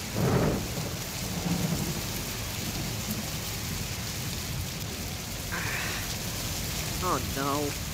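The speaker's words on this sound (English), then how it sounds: "It's raining." A thunderstorm-and-rain effect plays during a high school stage production, steady rain hiss with low rolling thunder swells, while a few brief voices and animal-like calls rise over it.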